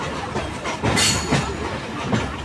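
A passenger train runs along the tracks close by, its wheels and wagons giving a loud, continuous rumble with rhythmic clacking pulses.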